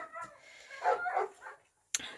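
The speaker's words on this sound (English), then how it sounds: "The dogs are going out again." Dogs bark and whimper at a distance, a muffled, uneven run of yaps and whines, followed by a sharp bark near the end.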